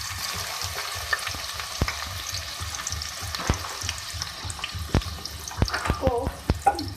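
Two medium onions fry in oil in a pan, with a crackling sizzle under repeated sharp stirring knocks and scrapes that grow busier toward the end.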